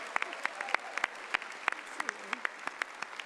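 A college convocation audience claps, a light, scattered patter of individual hand claps at moderate distance, fairly sparse rather than a roaring ovation.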